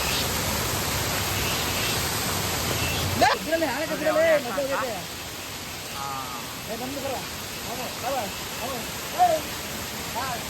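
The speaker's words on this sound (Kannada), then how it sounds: "ಈ ಕಡೆನೇ ಸಣ್ಣ ವಾಟರ್ ಫಾಲ್ಸ್ ತರ ಬರ್ತಾ ಇದೆ ತೋರಿಸ್ತೀವಿ ನಿಮಗೆ" Small waterfall at Suramane Falls in Chikmagalur, a steady broadband rush of falling water, loud and close, with people talking over it.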